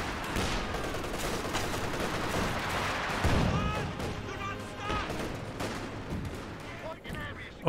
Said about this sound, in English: And Smoke Barrage coming out to that Vickers last known location.